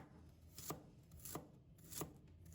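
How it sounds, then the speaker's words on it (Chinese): A knife slicing sand ginger on a cutting board, three evenly spaced crisp chops, close and quiet with no talk. "先把它切成片"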